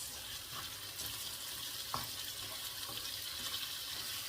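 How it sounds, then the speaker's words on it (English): Garlic prawns with chilli stir-frying in a pan, a steady broadband sizzle and hiss with faint clinks of stirring, one brief louder scrape near the middle, no talking. "Stir fry this."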